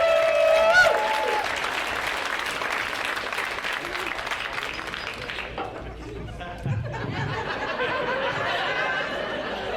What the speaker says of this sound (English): make some noise for the very funny Brian Sullivan